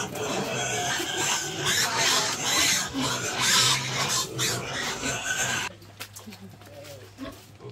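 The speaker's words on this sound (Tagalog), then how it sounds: "Baboy!" A pig grunts and squeals amid loud rough background noise and voices, the squealing dense for several seconds before dropping to quieter low grunts.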